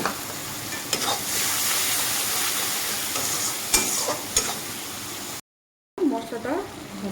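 A spice paste fries in a pan for a rohu fish curry with potatoes and pointed gourd, producing a continuous close sizzle broken by several sharp stirring scrapes, then a short silent gap.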